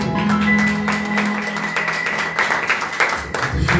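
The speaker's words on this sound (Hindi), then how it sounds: "आए जोरदार तालियां बजाएं खुदावंद के नाम" A church congregation at a Sunday service in Lahore, Pakistan, clapping loudly. Dense, sustained applause mixes with tapping and a brief sustained tone near the start.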